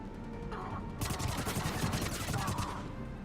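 Sustained automatic gunfire from a firefight in the video game Mass Effect 3 rattles steadily for about two seconds. The bursts sit over game sound effects, and a voice speaks briefly.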